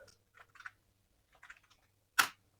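Sparse keystrokes on a computer keyboard come in short clusters of soft clicks, with a louder final keypress like an Enter key, close and quiet against a faint hum.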